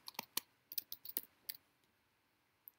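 Sparse clicks and taps on a computer keyboard, a few quick irregular keystrokes close by, then a pause and one last isolated tap.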